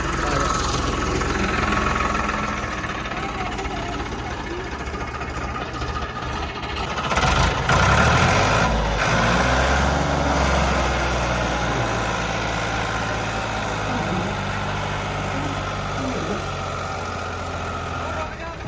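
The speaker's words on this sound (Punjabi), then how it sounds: "ਬੰਦਾ ਟਰੈਕਟਰ ਲੈ ਕੇ ਚਲੋ ਜੀ ਲਵਾਉਨੇ ਹੁਣ ਧੱਕਾ ਤੇ ਟਰਾਲੀ ਕੱਢ ਲਈਏ" A tractor engine runs steadily while pulling a sugarcane trolley, a loud low rumble throughout with a rise in strain midway, and people talk over it.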